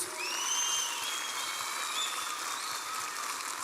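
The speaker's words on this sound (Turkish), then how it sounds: "Samsun için kocaman bir alkış gönderiyoruz." A large crowd at a Teknofest event in Samsun gives sustained applause, a dense, even wash of clapping with some whistles rising above it, steady from start to finish.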